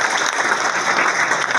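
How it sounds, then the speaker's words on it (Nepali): Audience at a school motivational program for secondary-level students claps steadily, a dense, continuous burst of applause that stays loud and close throughout. "यसको लागि ताली।"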